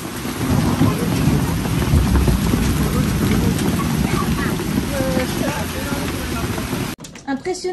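A heavy hailstorm pounds Paris with a dense, continuous roar of ice and rain hitting surfaces close by, with a rumbling low undertone, cutting off abruptly near the end.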